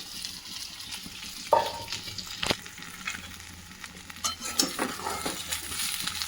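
Poha, or flattened rice, sizzles in a hot pan over cooked potatoes while a spoon stirs it, scraping and clinking against the metal. Sharp bursts and clatters come close up, and no one speaks.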